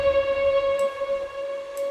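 Rough, buzzy ambience pad carrying a steady sustained lead melody, one held tone with bright overtones and faint airy swells, played alone at moderate level.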